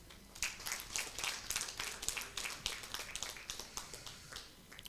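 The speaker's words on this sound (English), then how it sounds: "and we need to clap for them." Clapping for midwives at an International Day of the Midwife celebration, quiet and fairly sparse, with distinct individual claps in an uneven rhythm that sounds like a small group or a distant online audience.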